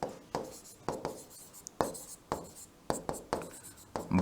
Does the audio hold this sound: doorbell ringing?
no